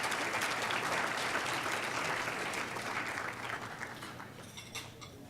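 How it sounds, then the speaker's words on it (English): Guests at a community organization's anniversary banquet give a round of applause, a broad, steady crowd clapping that gradually thins and fades toward the end. "give yourselves a round of applause"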